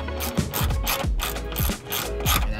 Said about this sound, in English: we're just taking off the last 2 fender bolts that are right here.